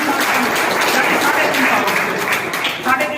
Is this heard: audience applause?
yes